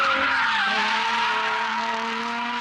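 A car drifting wide and tightening around a cone in second gear, tires squealing in one sustained, loud skid that slowly shifts pitch, with no voices.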